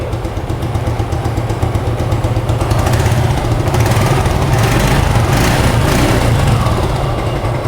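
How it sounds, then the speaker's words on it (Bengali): A Suzuki Gixxer motorcycle in tip-top condition idles steadily after being started, its engine note loud and close with an even, unbroken rumble and no voices. "বাইকটা স্টার্ট করে আপনাদেরকে সাউন্ড শোনানোর"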